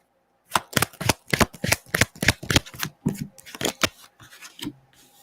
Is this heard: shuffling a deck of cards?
yes